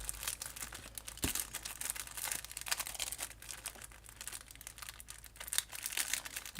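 A paper craft piece, a handmade card with embossed detail, being pulled apart by hand: soft, close crinkling and tearing rustles with scattered crisp snaps, quiet and without talk.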